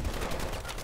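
Sniper rifle shot in Call of Duty Advanced Warfare, a loud, sustained blast with a booming low end that fills the short moment.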